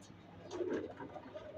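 Pigeons coo softly in a racing-pigeon loft, a low throaty murmur swelling in the middle of a short stretch and fading, fairly faint with no voices.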